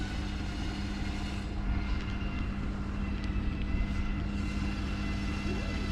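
A truck engine drones steadily as it pulls a stuck Chevy out of a bog, a loud, continuous low rumble holding nearly constant with no clear rev peaks.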